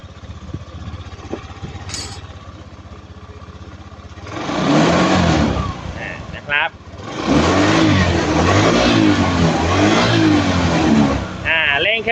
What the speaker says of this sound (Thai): เดี๋ยวครูจะลองเร่งเครื่อง